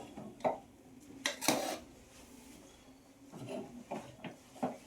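Coconut pulao is stirred in a pan, a spoon or spatula scraping and clinking against the metal in several separate bursts with quiet pauses between.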